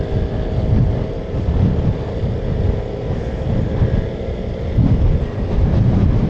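Strong wind buffets the microphone at a hilltop viewdeck in Batangas during a Vespa scooter ride, producing a loud, continuous low rumble with gusty swells and no talk.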